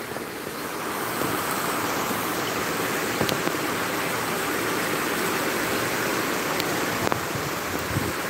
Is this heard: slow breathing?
no